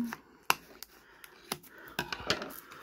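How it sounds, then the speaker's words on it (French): Scissors snip through the foil wrapper of a Disney trading card booster pack, giving several sharp, close clicks and crinkles spaced irregularly, fairly quiet overall. "Heureusement qu'on a des ciseaux quand même."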